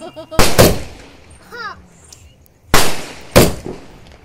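Three sharp, loud firecracker bangs burst close by, one early and two more in quick succession later, with a brief whistling sound between them.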